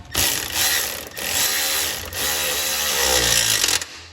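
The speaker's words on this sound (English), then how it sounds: "Now these bolts, the head sizes were 13mm, and we'll use another electric ratchet." An electric ratchet spins off 13 mm bolts from a John Deere transmission, running as a loud, steady mechanical whir in three long bursts separated by brief pauses.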